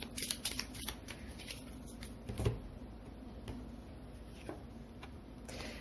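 Tarot cards shuffle and slap down in quiet, irregular flicks and taps, with a sharper snap near the middle, all faint and close against a hushed room.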